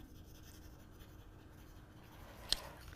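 Soft wax colored pencil burnishing on paper while blending feather colors, a faint, steady close scratching with one sharper stroke near the end.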